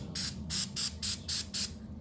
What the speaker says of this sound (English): we're simply just gonna spray down the rotor